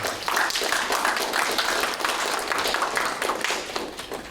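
An audience at an academic conference on the independence war breaks into steady applause to welcome the district mayor, many hands clapping densely and evenly throughout at moderate loudness with no voices over it.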